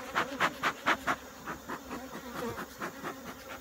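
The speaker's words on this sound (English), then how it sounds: "Bees all under here." Agitated honeybees buzz around a sick hive being smoked, loud pulsing hums sweeping close past in a rapid series, then fainter, steadier buzzing.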